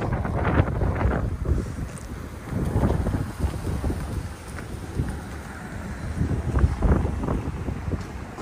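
Gusty wind buffets the microphone on a street in Newark in low, rumbling bursts that rise and fall, with no one talking.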